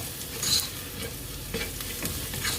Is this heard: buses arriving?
no